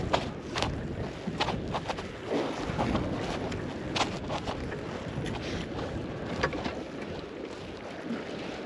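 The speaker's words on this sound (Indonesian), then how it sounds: "Angin nih." Wind blowing hard across a fishing boat at sea off Korea, a steady roaring buffet with gusty peaks and rattling bursts throughout, close to the microphone and loud with no talking.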